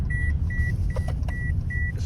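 A car's seatbelt warning chime beeps in a steady repeating rhythm, about five evenly spaced tones over a low engine and road rumble inside the cabin.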